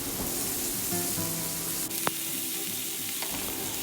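Chicken thighs and steaks frying on a Blackstone griddle, a steady broad sizzle with faint spatula scrapes and a brief metallic clink, no talk over it.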